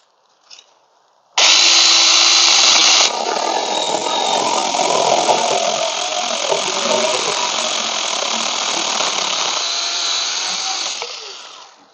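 A Tomyvic 6-inch mini chainsaw cuts through fallen branches, its motor whining loud and steady right after it starts, running continuously for about ten seconds before easing off at the end.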